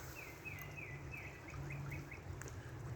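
Songbirds chirp in repeated bright, rising calls over a steady wash of running brook water, with a low hum underneath throughout.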